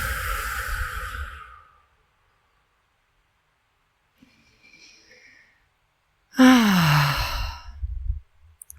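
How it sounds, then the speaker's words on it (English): A slow, audible exhale during a calming breathing exercise, drawn out for nearly two seconds near the mic, followed by quiet pauses and a second, stronger breath-out sigh. "And exhale."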